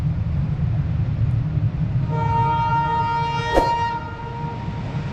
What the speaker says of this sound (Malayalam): നമ്മുടെ റെയിൽവേ പാലത്തിൻ്റെ അടുക്കത്ത് ഒരു ട്രെയിൻ പോകുന്നുണ്ട് ട്രെയിനല്ല എഞ്ചിൻ മാത്രമല്ല